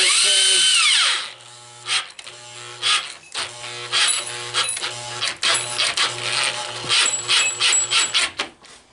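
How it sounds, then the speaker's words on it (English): A power tool fitted with a 13 mm deep well socket spins off the nuts holding a trailer-hitch bumper. A loud, steady whir opens the clip, then short, close bursts of motor whine repeat, start and stop. "I'm using a deep well 13 deep well socket to remove this."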